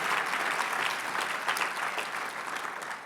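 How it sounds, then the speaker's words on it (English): Audience applause at an Urban League annual dinner in St. Louis, a dense, steady wash of many hands clapping throughout, fairly loud and sustained, tapering slightly at the end. "Would you join me in one more round of applause for our staff"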